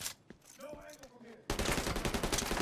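Pistol fire in the video game The Division 2 erupts halfway through as a loud, dense run of rapid shots after a quieter stretch of game sound.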